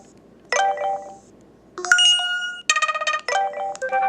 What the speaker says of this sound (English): I haven't really gone through all the notification sounds, but they're pretty nice